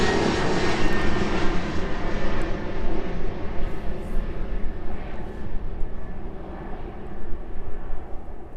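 A Boeing 777F cargo jet at East Midlands Airport gives a broad, steady engine roar that slowly fades as the aircraft turns away in the distance.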